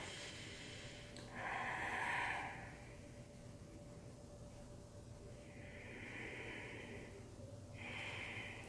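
Deep, audible breaths drawn in and let out during a beginner yoga flow, slow rushing inhales and exhales at close range over a steady low background hum.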